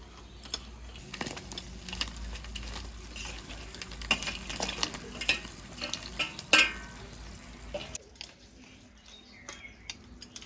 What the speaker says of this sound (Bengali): ঝোলটা ফুটে গেছে, কাঁকড়াগুলো এবার ঝোলের মধ্যে দিয়ে দেবো।